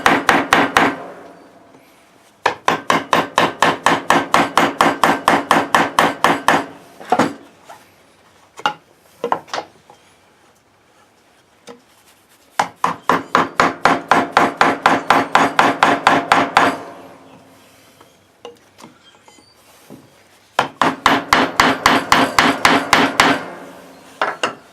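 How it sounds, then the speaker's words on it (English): Rapid metal-on-metal hammer blows drive a small chisel into a steel railroad spike being carved into a hook, coming in three long dense bursts separated by quieter gaps with a few scattered taps. "So I've got the small chisel, and I'm just going to be taking it and start whittling more of it out."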